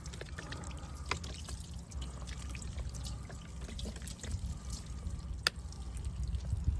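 Water pours and splashes steadily over old hot rod parts being rinsed, a continuous close trickling and dribbling with occasional drips, no talking.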